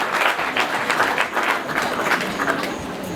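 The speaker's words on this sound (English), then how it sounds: "I think they deserve a very big round of applause" An audience at a Rotary Club presidential installation ceremony breaks into steady, full applause, a dense wash of many hands clapping that holds evenly at moderate loudness for the whole stretch.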